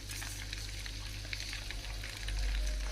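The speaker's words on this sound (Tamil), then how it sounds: "முருங்கைக்கீரை போடுதல்." Drumstick leaves hit hot boiling ghee and set off a steady, dense sizzle and crackle of frying. It swells louder near the end, close up and without any talk.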